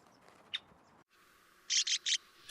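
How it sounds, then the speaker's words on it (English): A male red-winged blackbird calls near its nest at the edge of a pool: a single sharp chip, then a quick series of three loud, harsh, buzzy notes, close and clear over quiet marsh ambience. "I get too close to the nest of this male red-winged blackbird"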